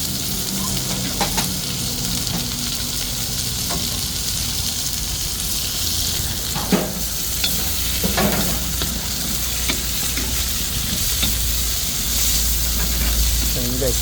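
String beans for adobong sitaw, cooked with chicken hotdog, sauté in a pan with a loud, steady sizzle and occasional spatula scrapes and stir strokes close by, a voice faintly present underneath.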